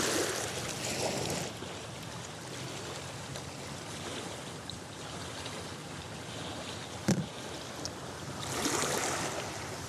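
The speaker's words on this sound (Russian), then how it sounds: "первую очередь необходимо слить лишнюю воду." Excess water poured off steamed porridge bait for feeder fishing, a continuous splashing, gurgling pour with a brief knock and a louder gush near the end.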